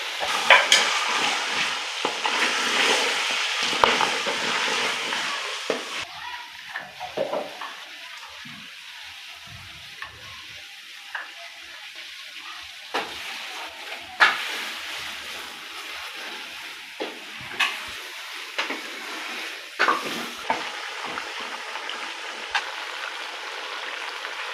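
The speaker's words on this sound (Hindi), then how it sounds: "चिकन हमारा फ्राई हो चुका है, तो अब हम मसाला डालने लगे। अदरक लहसुन का पेस्ट," Chicken with ginger-garlic paste masala frying and being stirred in a pan for chicken korma, a steady close sizzle with scraping stir noises throughout, no talking.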